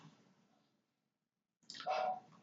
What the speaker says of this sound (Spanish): Damos clic en aceptar